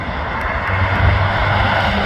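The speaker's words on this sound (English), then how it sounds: "the more that I drove the BMW, the more exciting it was becoming, and the sounds as well" A BMW M2 at speed on a track produces a steady, loud broadband engine and wind roar. A low drone holds throughout with no pauses and no talk.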